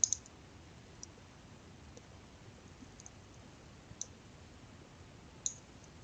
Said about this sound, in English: so double click from the navigator window